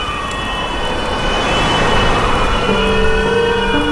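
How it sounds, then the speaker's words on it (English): An ambulance siren wails steadily and loudly over road traffic noise, its tone shifting as the vehicle passes, with no one speaking. "it's just I saw the ambulance"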